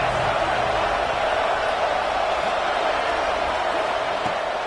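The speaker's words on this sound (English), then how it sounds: "this crowd is ready" A football stadium crowd before a big third down gives off a dense, steady roar that holds at full strength without a break, loud and close from start to finish.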